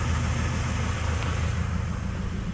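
A 2002 Camaro SS sits stationary with its engine running while it is taken through the gears, a steady close rumble with a rough, slightly rattly edge, holding an even level throughout with no voices.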